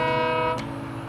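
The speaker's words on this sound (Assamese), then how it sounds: "এখন ট্ৰেইন আহি আছে" A passing train in a village setting gives a long, loud steady horn blast that cuts off partway through, leaving a rumbling rail sound.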